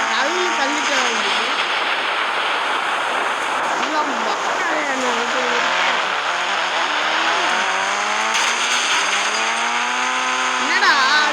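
A car engine runs steadily near water, a continuous droning roar with shifting tonal whine as revs rise and fall, with voices talking over it.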